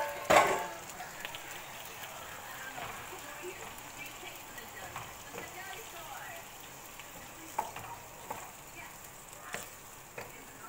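Tomatoes fry in a pot for a mixed dhal, giving a soft, steady sizzle with occasional faint clinks and stirring bumps, quiet and close throughout.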